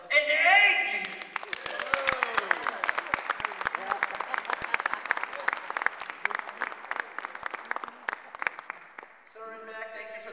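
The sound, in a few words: audience applause at vaudeville magic show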